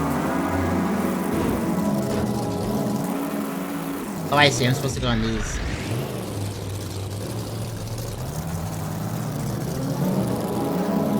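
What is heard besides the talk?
car engine climbing a wall in the video game Pudgeworld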